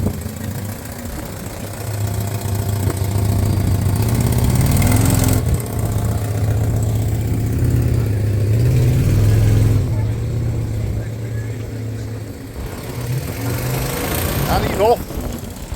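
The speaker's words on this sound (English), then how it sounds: "There we hear the engine of the Lotus Elite here." Around-1979 Lotus Elite classic car engine running at a car show, a loud close rumbling idle that rises and falls with revs and has a slightly knocking edge, with people talking over it.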